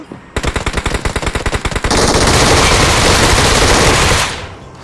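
Rapid automatic gunfire in a ranked multiplayer shooter match, a loud fast stream of distinct shots that merges into a sustained roar of fire before cutting off.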